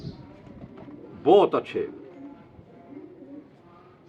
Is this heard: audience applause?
no